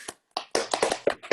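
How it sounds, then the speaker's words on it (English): A yoga class claps together in a quick, uneven burst of several sharp, close claps over about a second. "if we clap, he gets up"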